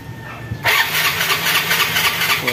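A Yamaha Mio Soulty scooter that won't start being cranked: a sudden burst of starter and engine churning that keeps going briefly but never settles into a clean idle, fairly close.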